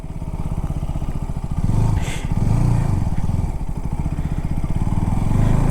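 KTM RC 200 GP Edition motorcycle riding in fourth gear, a steady buzzing single-cylinder engine drone with wind rush throughout, close and continuous, with no talk.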